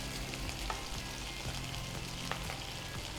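Onions sizzle and fry steadily in a pan for malai chicken curry, with a constant crackling hiss broken by occasional scrapes and knocks of stirring, close and without talk.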